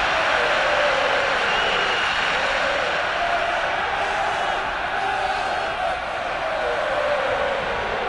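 Steady roar of a stadium crowd in the soccer video game Soccer Revolution 2018, a dense, continuous wash of distant massed voices that swells slightly without pause.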